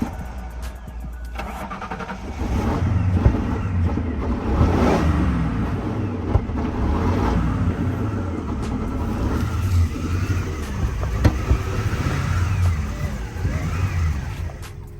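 A Ford Grand Marquis in need of a tune-up cranks briefly, catches and starts, then settles into a rough, uneven idle with low engine rumble and occasional revs, heard up close.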